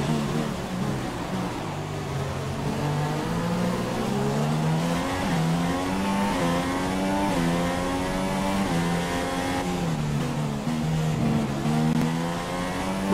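A Formula 1 car in F1 2016 laps through a rain-soaked qualifying session, its high-revving engine loud and up close, climbing and dropping in pitch through gear changes and corners without a break.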